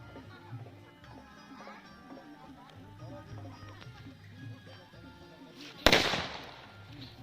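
Firecrackers go off at a Chhath Puja celebration, with one sharp, loud burst close by near the end. Before it comes a busy background of crowd noise and music.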